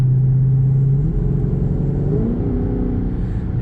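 Low, steady exhaust rumble from a car with its mid-muffler removed, a deep drone that shifts pitch slightly as the engine settles, close and continuous with no talk.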